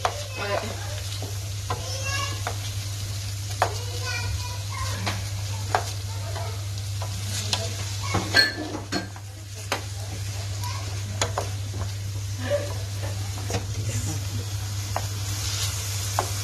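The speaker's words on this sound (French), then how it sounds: "on va ajouter les poivrons qui sont découpés en dés" Diced peppers being stirred as they fry in a paella pan for seafood paella, a continuous low sizzle with frequent light spatula scrapes and taps, close up over a steady background hum.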